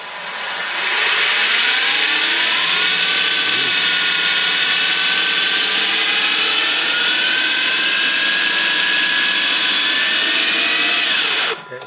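An HPEV AC35 electric car motor on its first test run whines up to speed, a loud sustained rising tone with steady mechanical hum that holds for about ten seconds before cutting off.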